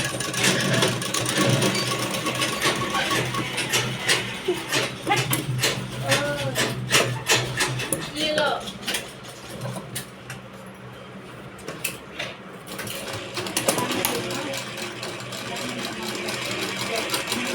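A sewing machine stitches a border onto fabric, its rapid needle clatter running in bursts with short pauses between, close and fairly loud, with occasional light handling noises.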